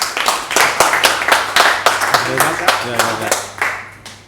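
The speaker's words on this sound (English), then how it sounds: "please a warm round of applause to Mr. Thom Noble" Audience claps to welcome a speaker at a marketing talk, with distinct sharp claps forming a moderately loud burst that thins out and tapers off toward the end, while a voice speaks over the middle.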